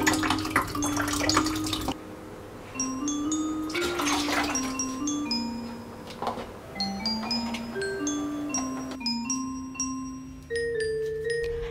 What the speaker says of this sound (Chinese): 跟住每日最少冲水两次